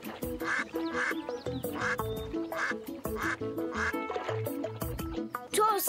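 Cartoon duck quacking in a French animated children's series, a rapid run of nasal, comic quacks in quick bursts, loud and close, over light background music.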